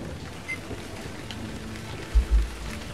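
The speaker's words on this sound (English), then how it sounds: "No, it's raining everywhere." Rain falling across rooftops in a Batman video game set in Gotham: a faint, even patter and hiss throughout, broken near the end by a couple of low, dull thumps.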